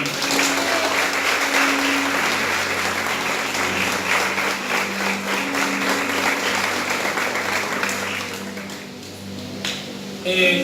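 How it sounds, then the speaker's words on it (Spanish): A church congregation applauds the Lord with sustained, loud clapping that holds for about eight seconds, then thins and fades near the end, with a faint tone lingering underneath. "Dale un aplauso al Señor."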